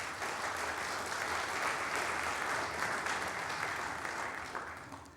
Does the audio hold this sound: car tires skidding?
no